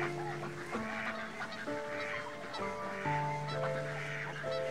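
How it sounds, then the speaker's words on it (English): A flock of wild ducks calls continuously from park pools in the Chiriloaia ecosystem near Braila, many overlapping honking and quacking voices at a moderate distance, without pause. "The colonies of thousands of wild ducks populate the pools of the park"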